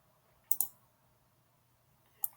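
Computer mouse clicks: a quick double click, then a single click about two seconds later, crisp and close in a quiet room with no talking.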